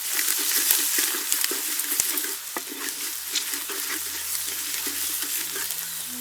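Ground chili powder frying and being stirred in a pan for a ragi kali and gongura kadaiyal, a steady close sizzle broken by repeated scraping stirs, with no talk.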